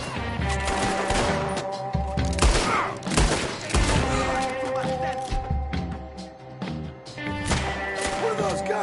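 Gunfire in a Red Dead Redemption 2 shootout: repeated shots and volleys rattle on throughout, loud and dense over a continuous music and ambience bed, with brief voices under it.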